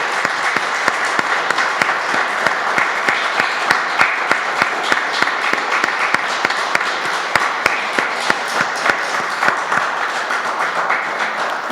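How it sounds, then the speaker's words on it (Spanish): A church congregation applauds the Lord with loud, dense clapping that holds steady for about twelve seconds and stays unbroken by speech. "El Señor se merece un aplauso."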